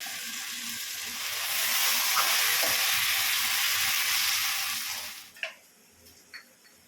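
Vegetables sizzling in a pan with tomato paste added, a steady close frying hiss that fades out, followed by a few light stirring clinks.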